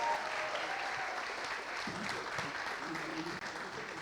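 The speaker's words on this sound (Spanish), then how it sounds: "Más fuertes aplausos, por favor." A church audience applauds in a large room, a sustained, even wash of many hands clapping at moderate distance, with faint voices mixed in underneath.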